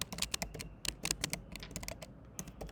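Quiet, rapid keystrokes on a computer keyboard while code is written, an irregular patter of clicks in short bursts and brief pauses, heard alone and close.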